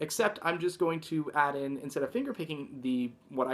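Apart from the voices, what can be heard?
None of the usual background noises is heard.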